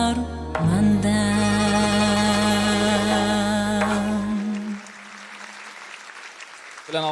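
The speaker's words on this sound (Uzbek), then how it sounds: "olqishlab qo'yamiz" At a stage concert, a song's sustained closing notes ring out over dense applause from the audience, then the music cuts off and the clapping carries on more softly before a voice briefly begins.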